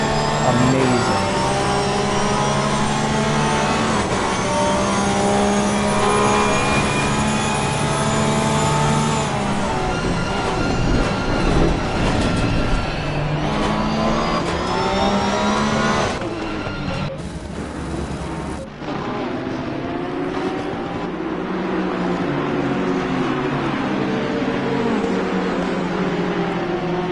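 Loud, continuous roar of racing car engines in the racing video game ACC, with rising and falling pitch as gears shift, dense and close throughout.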